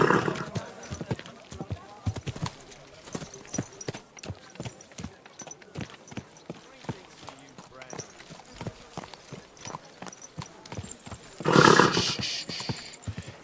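Horse hooves clip-clop steadily in Kingdom Come: Deliverance 2, a close, regular rhythm of hoofbeats under intermittent voices, with a louder burst of noise near the end.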